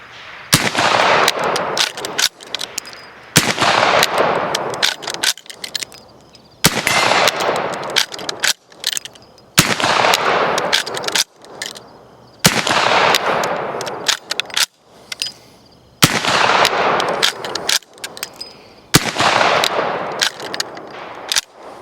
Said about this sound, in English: I'm here at the range today with an 1865 Spencer carbine.